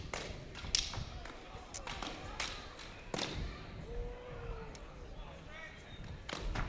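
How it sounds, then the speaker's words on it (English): Escrima sticks striking arms and body during a stick-fighting bout, a scattering of sharp thuds and slaps at irregular intervals over crowd noise and commentary. "that thud you're hearing when the stick, Ivan, hits the arm or the body"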